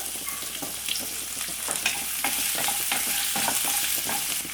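Thinly sliced large onion tossed into a pan of lightly roasting cashew nuts, frying with a steady close sizzle and crackle, broken by occasional stirring scrapes; no voices.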